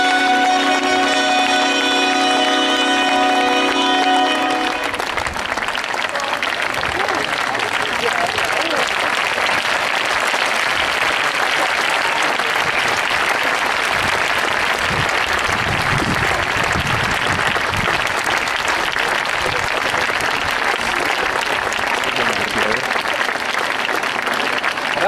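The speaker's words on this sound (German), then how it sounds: "Herzlichen Applaus für die Gladiatorenschule aus Mailand." An audience claps and cheers for a gladiator school at a Roman festival in Augusta Raurica, loud sustained applause from a large crowd, with a bright musical tone fading under it during the first seconds.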